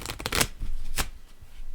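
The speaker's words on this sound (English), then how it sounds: "I'm going to take my pile, flip it upside down, and shuffle it into the audience's pile while upside down" Playing cards are shuffled together, one pile turned face down into another, making quick riffling bursts and soft flicks at close range, with no talking.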